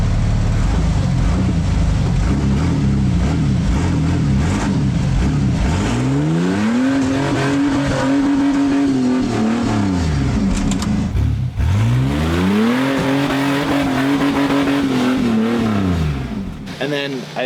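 An off-road rig's engine roars and revs hard on wet rocks in the rain, with two long rising-and-falling rev surges and heavy, loud throttle throughout.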